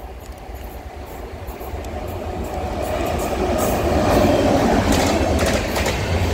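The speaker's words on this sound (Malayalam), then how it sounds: "രാജധാനി ഇതാ അങ്ങന്ന് അടിച്ചു പറത്തി വരുന്നുണ്ട്" A Rajdhani Express hauled by a WAP-7 electric locomotive passes close by, a loud steady rail rumble with rhythmic clickety-clack that swells as the train draws nearer.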